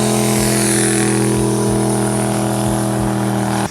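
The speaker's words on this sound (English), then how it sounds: "has one of the best engines ever created, the LS engine" A Chevrolet Corvette's LS V8 engine runs at a steady, loud idle-like drone, with a few low thumps pulsing through it before it cuts off abruptly.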